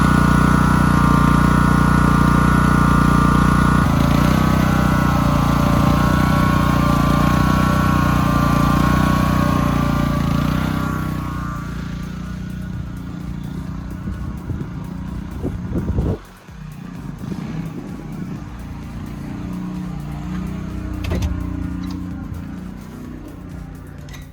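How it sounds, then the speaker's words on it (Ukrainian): Corolla CL3500io inverter petrol generator running, a loud steady engine drone for about ten seconds that then settles to a quieter hum with a few knocks and clatters. "зараз ми його відключимо, заведемо і подивимося, що він може стягнути"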